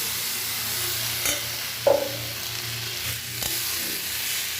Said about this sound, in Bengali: ভালো করে কষিয়ে নিব আলু পটলটাকে মশলার সাথে